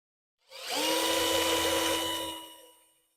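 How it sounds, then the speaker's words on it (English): A power drill bores a hole into a deer feeder during a repair job, a loud steady whine lasting about two seconds before spinning down, with no talking. "Drill my hole right in there."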